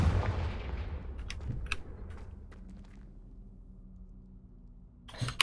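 A Confringo blasting spell goes off in the Hogwarts Legacy video game: a burst at the start fades over a second or two. Scattered sharp crackles and a low rumble follow, and a fresh impact lands near the end.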